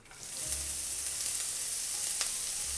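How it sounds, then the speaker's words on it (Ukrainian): Onion frying in oil in a pan for borscht gives a steady, close sizzle and crackle, with a low hum underneath and a few sharper pops. "Можемо обсмажувати з вами цибулю."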